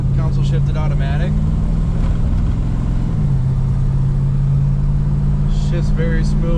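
A 1969 Dodge Charger with a 440 V8 and 727 automatic transmission driving steadily, its engine a loud constant drone that drops briefly as the gearbox shifts midway, with a voice talking over it.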